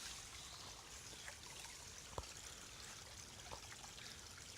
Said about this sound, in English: There's where the spring comes out of the ground.